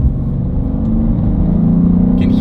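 A BMW M2 G87 engine revs to about 4,000 RPM in a steady, loud, low rumble heard from inside the car while driving.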